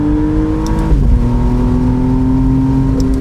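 Under hard acceleration, the 3.0 L 120-degree V6 of a 2025 McLaren Artura Spider rises, dips sharply at a gear shift, then climbs again, loud and close from the cabin without voices.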